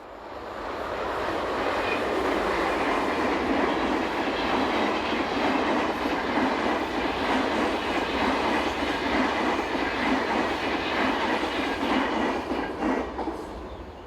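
A Swiss Class 460 electric locomotive hauls double-deck coaches east on the Geneva to St. Gallen line, a loud sustained rumble with rhythmic wheel clatter that rises and then fades slightly.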